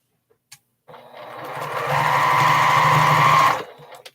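A sewing machine stitches crumb-pieced quilt fabric: a few faint clicks, then a steady, close motor hum that runs for nearly three seconds before cutting off.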